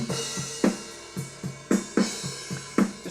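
Drum kit heard through a blend of room mics and overheads in a small room: a steady groove of punchy kick and snare hits with washy cymbals sustaining above, moderately loud and roomy.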